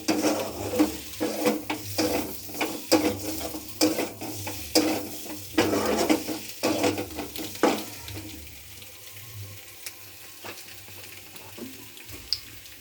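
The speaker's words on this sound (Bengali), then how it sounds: "এরকম করে করে আমি একটু কষতে থাকবো বন্ধুরা দেখো" Spices for a kajal gouri fish curry, with coriander leaves, sautéed in a pan: rhythmic scraping strokes of stirring over a soft sizzle, fading to a quieter sizzle near the end.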